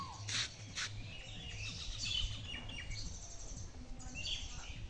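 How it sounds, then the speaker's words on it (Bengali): Birds around a village house garden, with scattered high chirps and short calls at moderate distance over quiet outdoor ambience, faint and intermittent, with no one talking. "পাখি পাখি"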